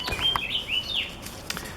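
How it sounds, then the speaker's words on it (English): Birds chirping outdoors on a warm day, a few clear whistled tweets and sliding calls in quick succession, moderately close against a soft background hiss, with no voices. "the birds are singing"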